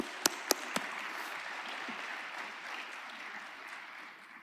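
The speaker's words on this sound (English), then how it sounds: "Let's give our Starbase team a round of applause." Audience at a cybersecurity summit gives a fairly quiet, steady round of applause in a large room, opening with a few sharp, close handclaps.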